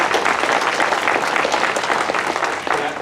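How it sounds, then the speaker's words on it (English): A crowd claps for the candidates at an evening Victoria County Republican primary debate, a dense, steady round of applause filling the whole short stretch with no talk over it. "let's give all our candidates a round of applause."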